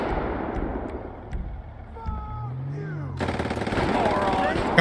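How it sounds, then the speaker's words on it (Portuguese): Gunfire from a survivor in a GTA V zombies mod plays in-game amid other game sounds, with a sharp burst near the end. "O cara atirou, galera, o sobrevivente."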